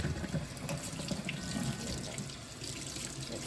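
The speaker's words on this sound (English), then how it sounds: "Empty this water out." Tap water runs steadily into a sink, a continuous close splashing rush that holds at an even level throughout with no voices.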